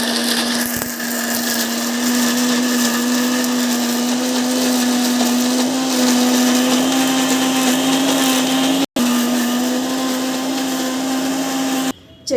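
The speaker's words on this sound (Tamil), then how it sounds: "சட்னி வந்து அரைச்சிட்டு முடிஞ்சிட்டு வந்து பார்த்திங்கன்னா ஓப்பன் பண்ணி பார்க்கலாம்" A mixer grinder grinds chutney with a loud, steady motor whine that runs throughout, cuts out for an instant partway through, then whirs on until it stops right at the end; no one speaks.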